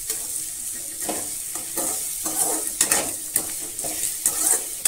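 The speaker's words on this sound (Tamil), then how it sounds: "இது ஒரு 10 செகண்ட் போல் நல்லா வதக்கி விட்டுக்கோங்க." Radish for a spicy chutney sautéing in a pan, a bright continuous sizzle with frequent scraping and clinking stirs of a utensil against the metal.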